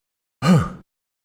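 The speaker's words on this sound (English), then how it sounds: "Make a strong enough sound when you exhale so you can feel it in your chest." A single strong, voiced exhale through the mouth during a breathing exercise, short and close, with silence before and after.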